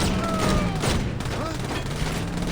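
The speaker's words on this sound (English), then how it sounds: "That gun's pretty loud," Gunfire in the Saints Row video game, a dense loud fusillade of shots rolling continuously, with game characters' voices mixed in.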